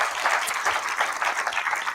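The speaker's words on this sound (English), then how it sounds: "Please give a round of applause for our principals." School district audience applauding its principals at a State of the District event, a brief burst of steady, full applause from many hands at close range.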